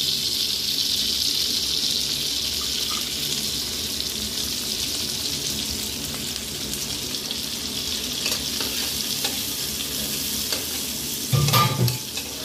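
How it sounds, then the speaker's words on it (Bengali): Continuous hissing sizzle of chopped onion and green chilli frying in oil, steady throughout, with a brief clatter of stirring near the end. "তেলটা গরম হলে পেঁয়াজ কুচি আর কাঁচা লঙ্কা কুচি"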